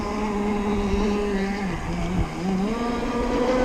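A ZippKits Vbox Cracker Box RC boat on stock engine settings whines across the water. Its high, buzzing motor holds a continuous tone that dips and rises in pitch as it turns, fairly close throughout.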